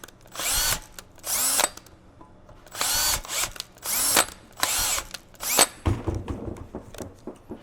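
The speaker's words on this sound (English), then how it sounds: "So we're going to go ahead and drill" A power drill whines in several loud bursts, each about half a second long, drilling a pilot hole in metal on a 100 Series Toyota Land Cruiser, with short quiet pauses between them and a few clunks of handling.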